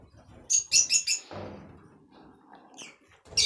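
Bright, rapid chirping bursts from budgerigars and lovebirds, a quick cluster of calls, a pause with faint low murmur, then another loud chirp at the end.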